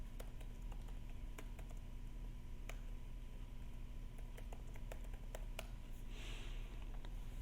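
Keys on a computer keyboard click in sparse, irregular taps over a steady low hum, faint and close, with no talking.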